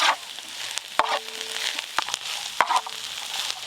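Cabbage, capsicum and carrot frying in a pan for egg chowmein, a steady soft sizzle with a few sharp clinks and scrapes of a stirring spoon, close and fairly quiet.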